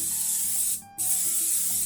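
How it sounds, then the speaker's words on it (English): A steady close hiss of no-stick cooking spray coating a waffle iron, broken by a brief pause before spraying resumes. "you want to use a no-stick spray"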